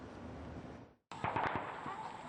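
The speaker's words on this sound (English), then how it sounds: "the sound of gunfire is heard coming from the town of Tenvelti, about 900 metres to the east" Gunfire from a town about 900 metres away near the Chad–Sudan border, heard as a few sharp distant cracks after a brief gap, over steady background noise.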